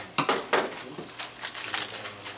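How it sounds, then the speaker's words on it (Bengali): Four or five whole cardamom pods dropping into a pan, a few light clattering taps and small rattles spread over a couple of seconds, quiet and close. "প্রথমে একটু আমরা একটু এলাচি দিচ্ছি, ধরেন 4-5টা এলাচি দিলাম"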